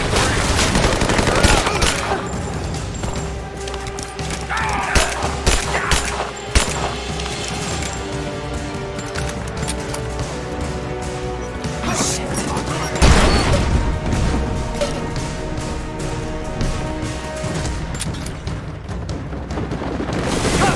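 Sustained covering gunfire in the video game Rise of the Tomb Raider, dense overlapping bursts and booms layered over a music bed, loud and unbroken with sharper blasts scattered throughout.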